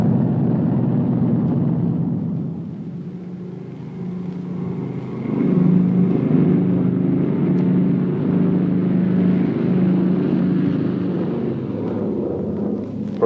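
Engines of B-29 bombers taking off together for a huge mass flight, a heavy continuous roar that dips briefly and then swells louder and fuller, steady and distant-sounding with no voices.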